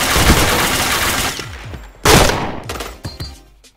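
Gunfire from the video game Point Blank bursts out in rapid volleys, one dense stretch of shots and then a loud fresh burst followed by a few separate cracks that fade out.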